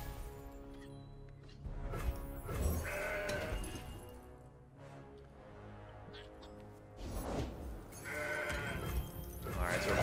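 Bleating from the Mountain Goat card in the Legends of Runeterra card game, a few short animal cries rising over layered game music and effects, with quiet talk underneath.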